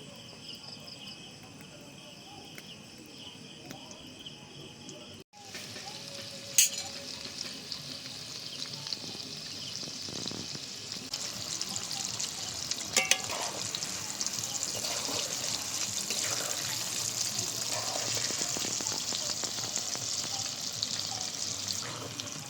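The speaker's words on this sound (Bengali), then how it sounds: "মিডিয়াম গরম করে পকোড়াগুলো ছেড়ে দিচ্ছি। এবার হালকা হালকা আছে এটাকে ভাজতে হবে।" Chicken popcorn pakoras frying in medium-hot oil, KFC style, giving a steady soft sizzle with crackling that grows slightly louder after a brief dropout early on and continues evenly throughout.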